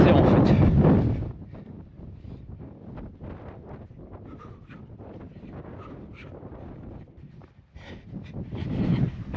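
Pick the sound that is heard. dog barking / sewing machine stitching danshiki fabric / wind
wind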